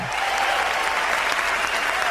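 Audience applause fills the space as a dense, steady wash of clapping from a large crowd, loud and continuous throughout.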